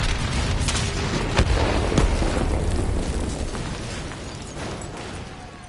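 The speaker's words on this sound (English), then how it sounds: "Detonate now!" Explosion from a detonation in the Black Ops 3 campaign: a loud, dense blast with a thick rumble, sharp bursts around the first two seconds, then a long roaring tail that slowly fades.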